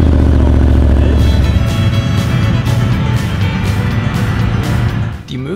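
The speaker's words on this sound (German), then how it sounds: "Gut, einmal Motor starten." A Can-Am side-by-side engine at a quad and ATV meet idles loud and close, with a steady low harmonic drone that is briefly blipped near the end.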